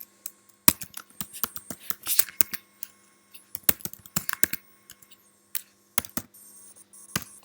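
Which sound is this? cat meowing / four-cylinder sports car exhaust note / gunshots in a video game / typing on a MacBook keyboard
typing on a MacBook keyboard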